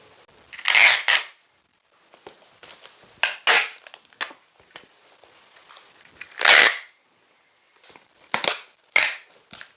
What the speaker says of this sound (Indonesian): Terus kita lakban.